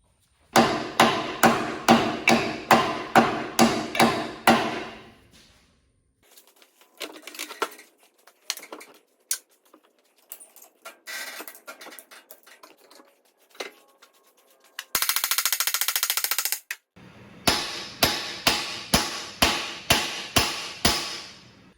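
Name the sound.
hammering new bushings into a Vermeer TM700 part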